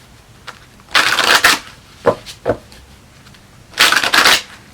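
Tarot cards are riffled and shuffled in two longer bursts with a few short flicks between, crisp and close against a quiet background.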